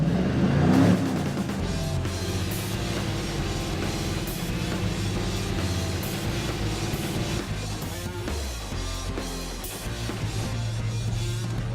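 A car engine revs hard through a stainless exhaust with a deep, raspy note, holding a loud, steady roar throughout with no talking.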